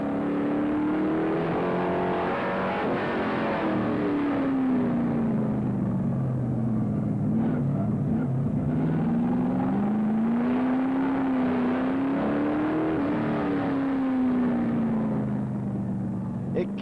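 A race car at the Trois-Rivières street circuit roars steadily close by, its engine pitch swinging up and down as it brakes, accelerates and shifts gears, with a voice talking over it.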